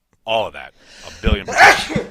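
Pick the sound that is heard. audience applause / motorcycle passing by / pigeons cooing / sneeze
sneeze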